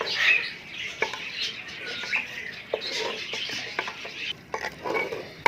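Chopped ingredients stirred through a pan of chicken feet, a steady scraping and sizzling texture with scattered clinks of the spoon against the pan, close and moderately loud throughout.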